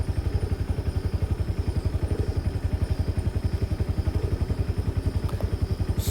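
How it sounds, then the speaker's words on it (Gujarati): A scooter engine idles to warm up after fresh oil has been added, a steady fast putter of even thumping pulses, close and continuous with no talk over it. "એન્જિન ચડી જાય જીરીકવાર ખાલી 2 મિનિટ રાખીએ ને એટલી રેડી"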